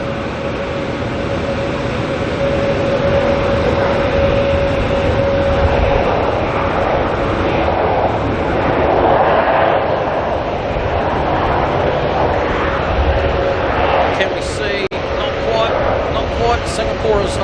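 An ATR turboprop airliner coming in to Auckland Airport from Napier drones loudly and steadily with a constant engine tone, while a person talks over it throughout.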